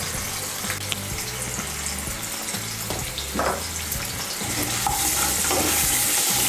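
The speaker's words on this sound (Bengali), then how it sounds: "দিয়ে আলুটাকে আমি ভালো করে ভেজে নেব" Potato chunks seasoned with salt and turmeric fry in oil, giving a continuous close sizzle broken by scraping stirs, and the hiss swells louder near the end.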